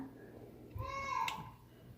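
A kitten lets out one short, thin meow at a family home over an Easter weekend, heard close over faint background noise.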